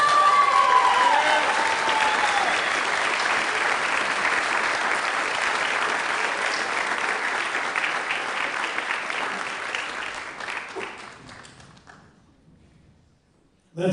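A large crowd gives a long, steady round of applause for young male athletes at a youth sports awards ceremony, loud and dense at first, then gradually thinning and fading out near the end.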